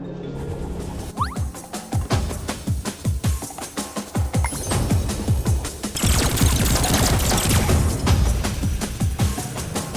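Cannon fire in the video game Skylanders Swap Force, rapid repeated booming shots in a fast, irregular barrage that thickens into a dense, noisy clatter of blasts toward the end.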